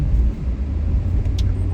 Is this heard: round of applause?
no